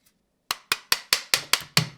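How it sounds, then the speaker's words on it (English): Seven sharp, evenly spaced taps of a small mallet knocking the handguard off a BRN-180 rifle, close and crisp against near silence, with a slightly heavier blow near the end. "tap the handguard off with a little mallet"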